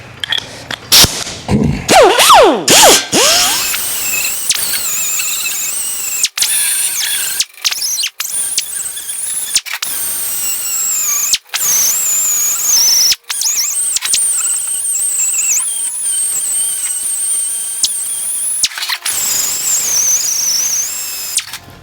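A power tool metal-finishes the bodywork of a Ferguson TEA20 tractor under restoration, giving high, shrill squealing and whining in repeated bursts with short pauses, close and loud.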